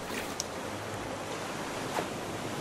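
Loud ocean waves and surf wash steadily in the survival game Raft, with a continuous broadband roar of water and wind and no voices.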